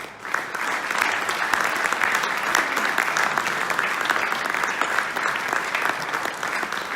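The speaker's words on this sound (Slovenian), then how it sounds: "hvala lepa za aplavz zanj" Sustained audience applause at a kayaking award ceremony, a steady wash of clapping from a large crowd that runs evenly throughout without pause.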